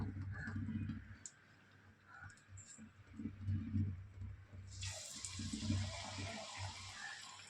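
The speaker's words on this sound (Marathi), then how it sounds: "चला आता भजी सोडून घेऊया, तेल चांगलं तापलंय आता।" Onion pakoda batter dropped into hot oil: a quiet kitchen with a low rumble, then a sudden close sizzling hiss that bursts up and keeps frying steadily.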